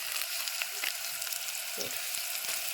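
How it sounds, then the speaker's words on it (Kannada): Onions and green chillies fry in a pan with bay leaf and spices, giving a soft, continuous sizzle with faint crackles and an occasional stir, fairly quiet and without talk. "ಈಗ ನೋಡ್ರಿ ಉಳ್ಳಿಗಡ್ಡಿ ಮೆಣಸಿನ್ಕಾಯಿ ಫ್ರೈ"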